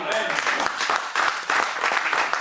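Church congregation applauding to acclaim the Lord, a dense steady wash of clapping hands filling the room, with voices calling out through it.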